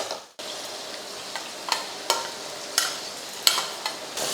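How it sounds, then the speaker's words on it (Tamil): Tomato and brinjal sauté in a hot pan, giving a constant close sizzle with a ladle scraping and tapping the pan every half second or so. "இப்போ தக்காளியும் கத்திரிக்காயும் நல்லா வதங்கிட்டு இருக்கட்டும்."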